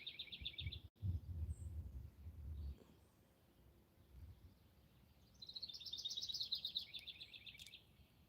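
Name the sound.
birds singing in the woods in the morning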